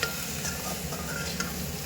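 Salt, sambar powder and turmeric stirred into eggplant frying in oil, a steady soft sizzle with faint scraping of the spoon, close and continuous with no voices.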